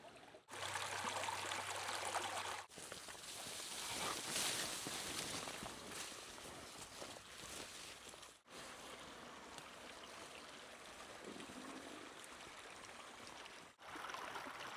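Water rushing and trickling over stones in a remote New England creek, a steady close-up flow broken by a few abrupt cuts, with no talking.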